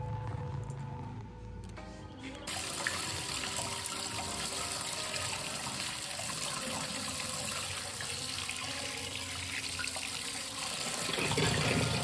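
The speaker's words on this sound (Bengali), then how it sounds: "চলো চালটাকে এখন ভালো করে ধুয়ে নিই।" Gobindobhog rice washed under running water, with a steady, close splashing and rushing flow that continues almost without a break.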